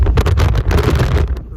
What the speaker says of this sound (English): Very windy up here.